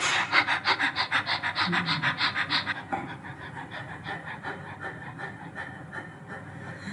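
Rapid, shallow panting breaths demonstrated as a breathing technique for labour, a close, rhythmic run of quick puffs lasting about three seconds, then quieter, slower breathing.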